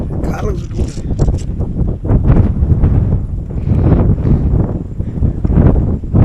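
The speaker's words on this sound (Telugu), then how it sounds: "ఈ గాలి న్యాచురల్ గా వస్తుందా లేకుంటే మీ పవర్ ఏమైనా ఉపయోగించి గాలి ఇస్తున్నారా" Gusty wind buffets the microphone with a heavy low rumble along an abandoned railway track while people talk over it.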